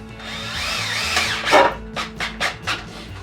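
Power drill driving a screw into a block of wood, a steady whirring run followed by several short, sharp bursts of the motor as the screw is sunk, close and loud with no talking.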